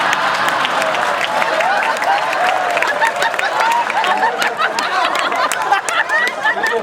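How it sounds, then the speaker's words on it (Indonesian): Audience applause at a Maiyah Mocopat Syafaat gathering, steady dense clapping with crowd noise and scattered laughter throughout, fairly loud and continuous. "Tepuk tangan untuk juga tepuk tangan untuk adiknya Susilo Bambang Yudhoyono."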